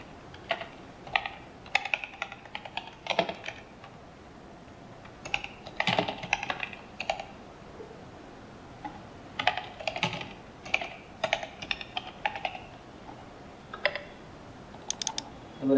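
Typing on a computer keyboard while working in Maya 2018: irregular bursts of close, quiet key clicks with short pauses between them, no voice.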